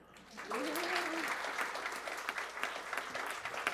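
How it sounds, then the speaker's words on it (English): A room of people at a school district governing board business meeting applauds together, steady clapping over about four seconds with a brief tonal voice sound near the start. "everybody in this room and everybody in the training room is clapping for her right now"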